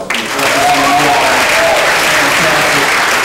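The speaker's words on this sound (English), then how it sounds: "Let's also give Miss SSU a big round of applause" Loud, dense clapping from a crowd at a campus news show event, sustained through the whole short stretch.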